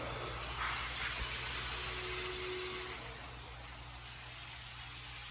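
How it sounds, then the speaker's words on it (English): Steady broadband rushing of falling water fills the space, a constant indoor hiss with a faint hum underneath and no voices. "this is the waterfall."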